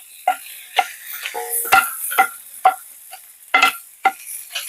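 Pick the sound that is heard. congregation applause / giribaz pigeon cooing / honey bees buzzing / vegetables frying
vegetables frying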